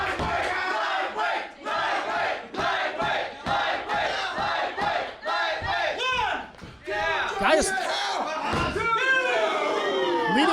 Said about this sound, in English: leading the chant here from the crowd. We're getting a count going.